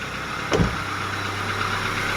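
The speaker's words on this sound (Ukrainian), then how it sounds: "Двигун працює гарно" A Chevrolet Lacetti engine idles with a low, steady hum, broken briefly by a single soft knock near the start.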